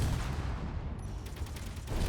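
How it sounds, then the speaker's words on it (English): Gatling guns on a ship in Space Engineers firing continuously, a steady, dense roar of rapid shots with heavy low rumble and no gaps. "Now those Gatling guns in that position really do shred armor plating."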